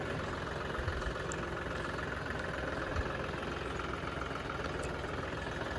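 A tractor engine idles with a steady, rumbling drone as it is driven slowly down a slope. The sound stays close and continuous with no talk over it.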